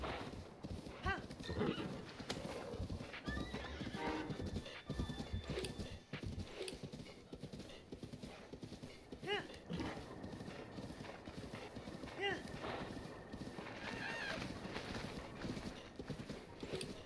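In Breath of the Wild, a horse gallops in a steady clip-clop rhythm and lets out whinnies over a busy game soundscape, the hoofbeats close and continuous throughout.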